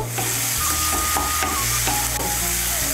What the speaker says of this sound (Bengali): মটরশুঁটিটাকে ভালো করে মিশিয়ে নেব। মিশিয়ে নিয়ে মশলাটাকে আর একটু কষিয়ে নেব।